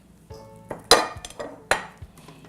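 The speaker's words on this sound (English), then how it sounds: "I'm going to slowly start mixing in our dry ingredients" Dry ingredients being mixed into vegan sweet potato donut batter, heard as a few sharp clinks and knocks of a utensil against a bowl over about two seconds, close and alone.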